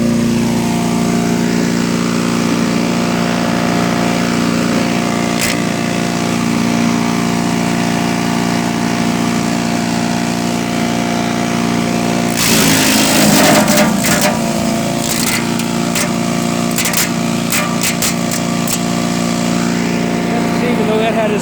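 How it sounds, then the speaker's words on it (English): A DR 208cc chipper shredder drones loudly and steadily, then bites into a bent stick with a burst of cracking, crunching snaps partway through before the engine settles again; no one speaks. "it went through the chipper shredder without any problem at all"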